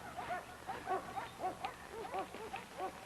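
Dogs bark and yip in repeated bursts, a little distant, in an outdoor chase scene with a low steady rumble underneath.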